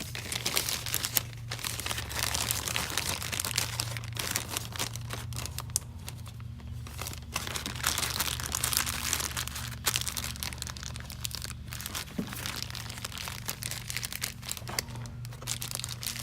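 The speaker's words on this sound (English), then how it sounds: "We got a little Ziploc bag." A small Ziploc plastic bag crinkles and rustles as it is folded to hold a Honda Monkey 125 registration, close and continuous with irregular crackling bursts through the whole stretch, no talking.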